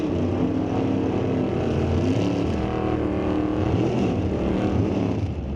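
A 1977 Chevy Nova drag car with a 414 small-block Chevy launches hard down the strip at Mission Raceway Park, its engine a loud, steady, close roar that holds the full length with no pause.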